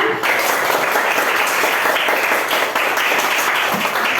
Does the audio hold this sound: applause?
yes